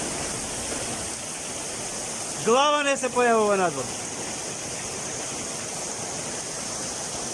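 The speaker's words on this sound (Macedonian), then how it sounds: "Силно невреме имајќи над Бела вода" Heavy rain pours during a severe storm in Veles, North Macedonia, as a constant dense hiss and roar that never lets up. A voice speaks briefly about halfway through.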